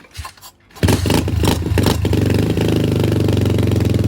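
A 125cc pit bike with a 26mm Nibbi carburetor kicks over after a quiet moment, catches, and settles into a loud, steady, slightly lumpy single-cylinder idle that runs to the end.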